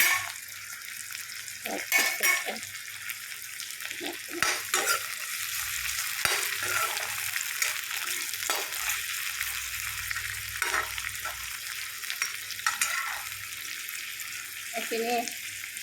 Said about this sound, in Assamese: পিঁয়াজৰ লগতে মই তেজপাতকেইটাও দি দিছোঁ।